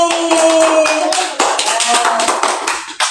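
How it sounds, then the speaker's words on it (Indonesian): Children in a classroom clap their hands for a classmate, a close, bright burst of fairly loud claps with a few separate slaps near the end, and voices mix in under the clapping. "Ya, oke, tepuk tangan buat Mas Ali."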